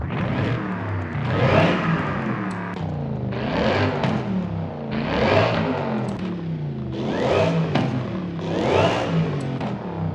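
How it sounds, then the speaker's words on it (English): A Mercedes SLS AMG with sport exhaust revs repeatedly in Forza Horizon 5, about five throaty rising-and-falling bursts spaced evenly, loud and close. "let's go ahead and listen to these three options that we have"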